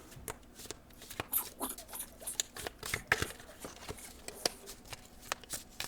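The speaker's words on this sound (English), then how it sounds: "she begins to shuffle" Soft, rapid flutters and riffling clicks of a tarot deck being shuffled, close and fairly quiet, in uneven bursts.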